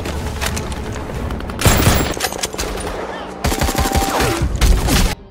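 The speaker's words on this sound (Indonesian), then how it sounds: "Sersan Abel terkena tembakan musuh lebih dulu" Rapid bursts of automatic gunfire fill a film battle scene with special forces under heavy enemy fire. The volleys are loud and close, come in two dense clusters, and a voice is faintly heard beneath them.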